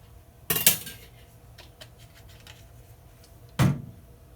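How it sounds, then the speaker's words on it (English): Jamaican plantain porridge with vanilla being stirred in a pot, heard as two sharp metallic clanks of a spoon against the pot with faint scraping and light clinks between them; no one speaks. "So just go ahead and stir it."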